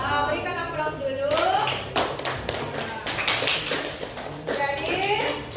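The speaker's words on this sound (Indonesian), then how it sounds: "Berikan aplaus dulu." Classroom applause for the first student group, with a burst of many hands clapping and tapping that starts after a moment of voices and continues unevenly, with children talking over and around it.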